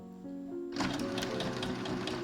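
Sewing machine driven by a foot pedal stitching fabric, a brief low motor hum that suddenly bursts into fast, close, rattling stitching lasting a couple of seconds.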